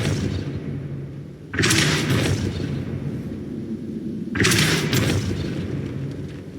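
Two heavy booming spell blasts, Flipendo and Depulso, cast in the video game Hogwarts Legacy, each a sudden loud burst that lingers as a rumbling wash before fading, spaced about three seconds apart.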